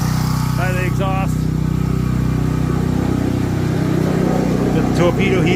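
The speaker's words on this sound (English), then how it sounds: "It's pretty nice, the generator. It's propane and gas, so you can run it off propane." Steady engine drone of a propane-and-gas generator running through the whole stretch, loud and constant, with someone talking over it.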